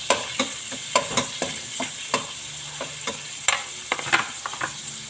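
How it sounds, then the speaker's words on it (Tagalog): Garlic sautés in a pan with a low background sizzle, broken by repeated sharp scrapes and taps of a spatula stirring it at a brisk, uneven rhythm. "At magigisa na tayo ng ating bawang."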